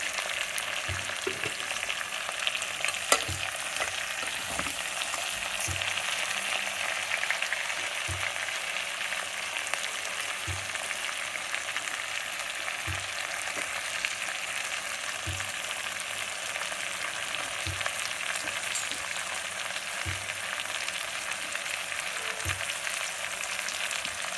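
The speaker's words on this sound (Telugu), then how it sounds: "ఇలా వేగనివ్వాలి. ఒక 3-5 నిమిషాలు వేగాలండి." Goat trotters (paya) frying in hot oil make a continuous loud, close sizzle for the whole stretch, with faint stirring taps now and then and no voices.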